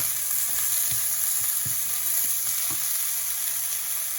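Diagonally cut celery stir-frying in a wok with ham and spaghetti noodles, a loud continuous sizzle broken by a series of rhythmic spatula tosses and scrapes.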